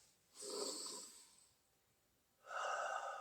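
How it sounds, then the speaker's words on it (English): Two slow, audible breaths during a kung fu flowing-hands exercise, an airy inhale and then an exhale after a short pause, close and quiet, with no speech. "Breathing, you know, whether it's in or out"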